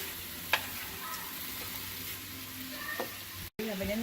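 Steak meat for cheesesteaks sizzles and fries steadily in a pan while being stirred, with a few soft scraping knocks, close and fairly quiet, plus a brief faint voice.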